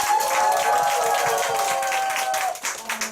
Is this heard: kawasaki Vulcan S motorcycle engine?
no